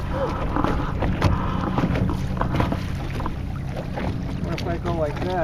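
Sailboat moving across water near a cabin, with a steady wash of water and wind noise rustling close to the microphone while someone talks over it.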